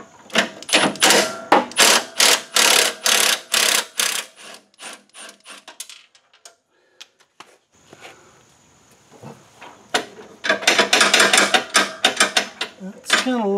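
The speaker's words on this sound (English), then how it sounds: "I'm going to take this nut off" A wrench turns a nut on a hydrostatic drive during a fluid change, giving repeated quick ratcheting clicks in bursts, then a quiet pause and another rapid run of clicks.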